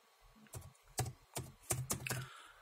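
Rapid keystrokes on a computer keyboard as a search term is entered into a Windows search box: irregular clusters of crisp, close clicks with short pauses between bursts, and no speech.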